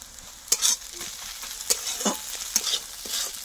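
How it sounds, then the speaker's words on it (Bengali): Spiced mixture stirred in a pan, made ready for banana flower: a close sizzle broken by repeated sharp scrapes of a spatula against the pan, no voices. "আবারও নাড়বো ভালো করে।"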